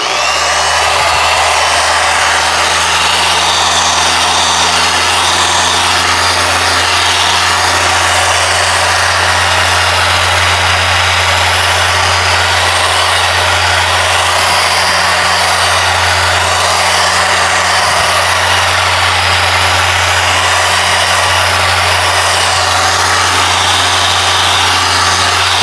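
An orbital polisher with a buff refinishes metal, giving a loud, constant motor whir with a low steady hum that runs without a break, close by and with no talk.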